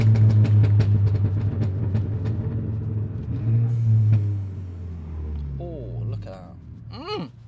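A Volkswagen Scirocco's engine drones steadily while driving, a loud low rumble throughout with some shifting tones and brief higher sounds toward the end.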